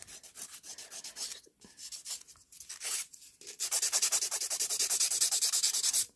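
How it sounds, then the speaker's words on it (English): A hand file rasps across an acrylic nail around the cuticle in quick, rhythmic strokes, close and crisp, with short pauses early and then a steady run of even back-and-forth scrapes. "You want to make sure you're running that file across that nail."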